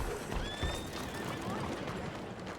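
A black horse whinnies briefly in Red Dead Redemption 2, its high call heard over a steady noisy background.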